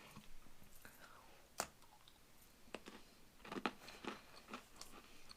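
Crunching bites and chewing of a cereal bar biscuit from a 2016 French RCIR 24-hour ration, with sharp close crunches scattered across the clip and a dense burst of chewing near the end.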